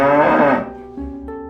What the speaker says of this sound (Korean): 잭은 젖소를 데리고 밖으로 나갔어요.